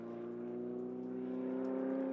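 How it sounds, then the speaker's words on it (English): A low-revving Ferrari GT race car engine hums at low revs, a steady, gruff tone heard from a distance at MotorLand Aragón with no other sounds. "Sounds like a very grumpy Ferrari."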